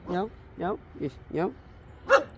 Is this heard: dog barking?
yes